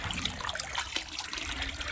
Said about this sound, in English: So that's how fast hot water will be going in as it comes through the coil.